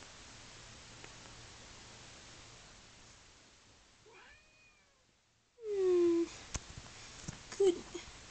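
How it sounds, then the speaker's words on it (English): A house cat meows a few times near the end, short clear calls following a quiet, hissy stretch, with faint chirps before and a sudden loud burst of noise. "And this is my other cat."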